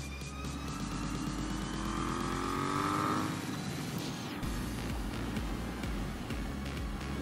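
A motorcycle fitted with an aftermarket exhaust drones steadily while riding on roads near Harriman State Park, its engine pitch rising then dropping as it shifts, with constant wind and road noise.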